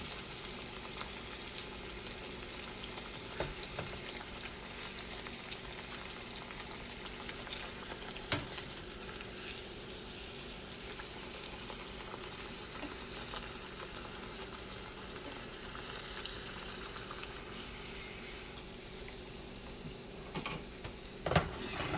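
Green tomatoes fry in hot grease at a family reunion, producing a continuous crackling sizzle with occasional clinks and scrapes, moderately loud and close, and a sharper knock near the end.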